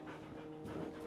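A dog pants close by in a garden, quick steady breaths filling the short moment with no talking.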